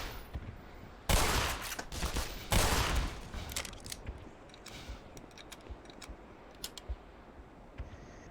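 Shotgun blasts in the shooter Black Mesa: two loud, heavy reports about a second and a half apart, each with a short rumbling tail, followed by a scatter of lighter clicks and faint pops.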